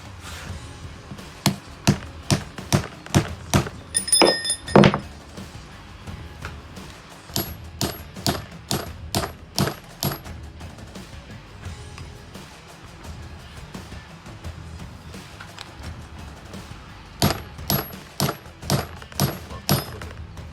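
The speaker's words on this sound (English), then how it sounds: "Pressing bearings." New bearings are pressed onto a differential during an ARB air locker install, heard as loud, close metallic hammer strikes in rapid regular runs separated by short pauses, with some strikes ringing sharply.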